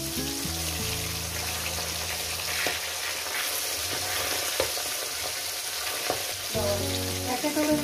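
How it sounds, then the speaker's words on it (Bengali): Pabda fish gets stirred into a mustard-poppy sauce in a frying pan, with a soft steady sizzle and occasional utensil scrapes, moderately quiet and close. "মাছটাকে মিশিয়ে দেবো।"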